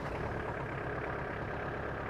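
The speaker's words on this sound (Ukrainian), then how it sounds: "Ми даний тракторець заведемо, під'їдемо і покажемо" A Kubota GL418 compact tractor engine runs steadily nearby, a constant dense mechanical chug with no pauses or talking.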